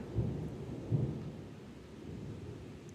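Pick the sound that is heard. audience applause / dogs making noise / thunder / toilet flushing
thunder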